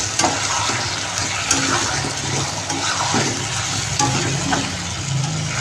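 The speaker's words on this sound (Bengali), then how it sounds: "এবার এটা ভালোভাবে কষিয়ে নিই, ভুলে গেছিলাম এই পেস্টটা দিতে।" Garlic paste and meat are stir-fried in a pan, giving a continuous close sizzle with scattered scraping and stirring knocks. The sizzle stays at a fairly even level throughout, and no one speaks.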